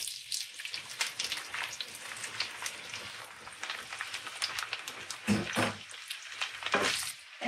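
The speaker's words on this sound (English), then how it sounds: "So we're gonna cook our zucchini right now in this olive oil. Just put it right in. So the zucchini starts to sizzle." Steady, crackling sizzle of zucchini frying in hot olive oil, continuous and close, with a few louder pops and stirring sounds.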